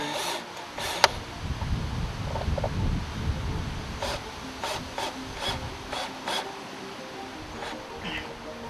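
A screw is driven into wooden decking with a drill, giving rough grinding, rubbing bursts followed by a few short repeated whirs, and a person talks at times.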